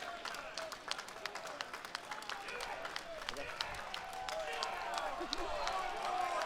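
Auction crowd at a Mecum collector car sale in Indianapolis applauding and cheering during bidding, a steady rippling wash of claps and voices that swells slightly louder toward the end.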